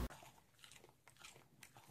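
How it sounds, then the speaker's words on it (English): A dog bites into a Cheeto, making quiet, close crunching and chewing sounds in a few uneven bursts over a faint background. "Here, I'm going to give Banjo a Cheeto."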